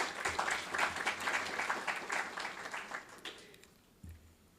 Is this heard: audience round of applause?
yes